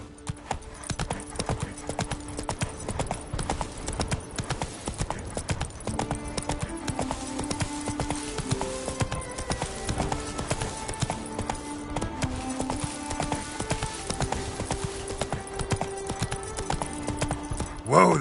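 Roach the horse gallops in The Witcher 3, with rapid, even hoofbeats over a game music bed that runs throughout.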